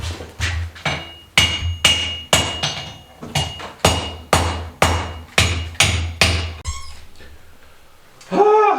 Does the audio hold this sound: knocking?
no